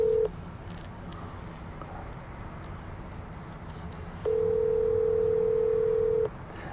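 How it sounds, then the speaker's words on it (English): A loud steady telephone tone starts, cuts off, and returns after a few seconds of low background noise, sounding close and alone during a redial call. "We're going to do the redial."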